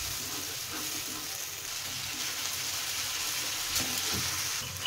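Onions frying in melted butter in a pan, a steady, loud sizzle that carries on without a break, with faint scraping from stirring.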